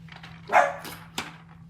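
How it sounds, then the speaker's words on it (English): Dog giving a single close bark, followed by a short sharper yip a moment later, over a faint steady background hum. "I don't know about her barking."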